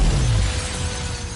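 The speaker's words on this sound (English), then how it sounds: "And it goes blowing out this window, jumps through the air across to the next tower." A big glass window shatters loudly as a car bursts through it in a Fast & Furious action scene, a sustained crashing burst with a heavy low rumble beneath, heard alone without talk.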